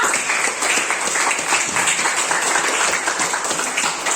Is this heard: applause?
yes